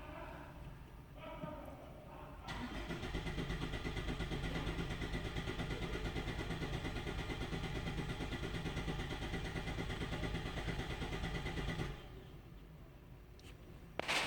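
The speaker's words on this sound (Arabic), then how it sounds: "دلوقتي الموتور هيدور لوحده وهيشوف الفلو بتاع كل انجكتور" A car engine idles steadily for about ten seconds during a fuel injector flow test on a misfiring engine, a near, even mechanical drone with a ticking rhythm that cuts in and then drops away.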